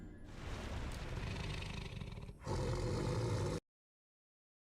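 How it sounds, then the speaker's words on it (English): A deep, rough lion-like roar from an invisible enemy in Dark Souls 2, two sustained growling bursts with a brief dip between, loud and close before cutting to silence. "An invisible, what I hear to be a lion."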